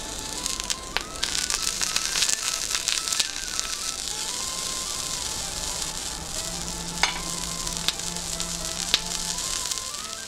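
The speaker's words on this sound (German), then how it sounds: "während es so schön brutzelt auf dem Bügeleisen" Bratwurst frying on a hot clothes iron gives a steady, close sizzle with scattered fat crackles and pops, no talk over it.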